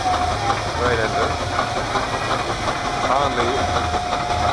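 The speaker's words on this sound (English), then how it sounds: "Great engine." Vintage stationary steam engine running at a steam rally, a steady close hiss and chug with a continuous mechanical drone and faint background chatter from the crowd.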